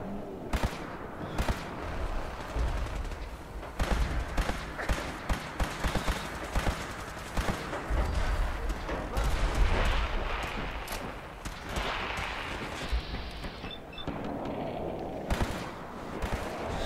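Gunfire in the post-apocalyptic shooter Fallout 4: repeated sharp shots and bursts crack over rumbling in-game ambience, some shots close and loud, others scattered, continuing throughout.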